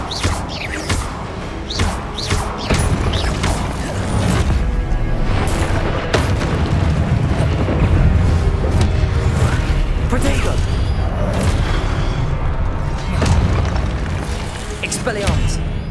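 Repeated Confringo fire-blast spell explosions in Hogwarts Legacy boom and thud loudly during a wizard duel. Crackling impacts and spell effects fill the background while a voice keeps shouting spell incantations.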